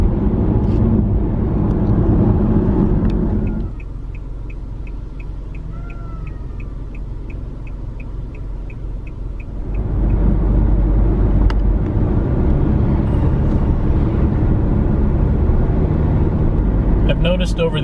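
Steady car-interior drone with low road rumble and engine hum, louder in the opening and closing stretches and quieter through the middle, with a soft ticking like a turn signal partway through.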